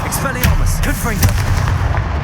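Fiery Confringo blast spells explode in Hogwarts Legacy combat, a run of sharp bursts and crackling booms one after another, loud and close over a dense rumbling game soundscape.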